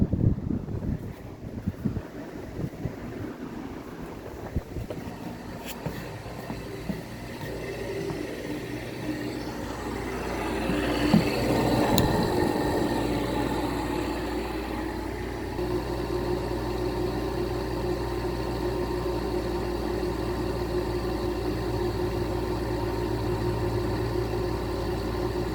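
GE air conditioner running on high cool, heard from outside: a steady low hum and whir with broadband rushing noise, continuous and fairly loud, with some wind buffeting on the microphone early on.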